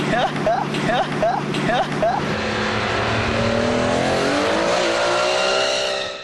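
A car drifts around the Darlington Park track, its engine revving hard and rising in pitch through long slides, loud and close throughout.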